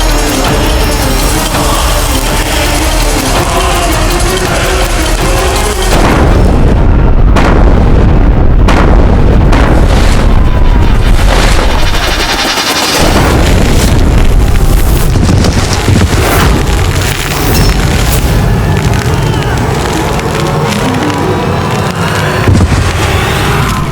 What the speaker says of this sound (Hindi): गोला डालो, आग लगाओ।